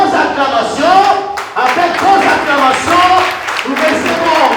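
An audience at a political party gathering applauds and cheers in steady clapping under someone speaking loudly over a microphone.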